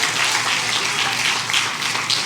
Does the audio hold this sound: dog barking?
no